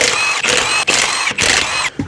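An impact gun on the wheel nuts of a Nissan Rogue lets out loud, close bursts of rapid mechanical rattling in four quick repeated pulses, each cut short by a brief pause, with no talking.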